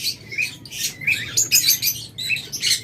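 Lovebirds and cockatiels in a cage give repeated bright chirps and squawky calls in overlapping bursts, close and fairly loud, with a low steady hum underneath.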